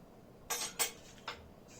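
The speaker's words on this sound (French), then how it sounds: "Je les pique avec une fourchette pour avoir une bonne aération pendant la cuisson" A fork pricks sheets of store-bought puff pastry on a worktop, giving three sharp metallic taps in quick succession, close and fairly quiet, with no talking.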